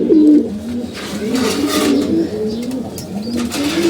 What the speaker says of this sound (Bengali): এই যে আমাদের কবুতরগুলা আমরা কবুতরগুলা সবগুলো খাবার পানি দিয়ে দিছি